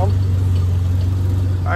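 A 1986 Pontiac Fiero GT engine idles with a loud, steady low hum and even rumble, close by, while someone talks over it.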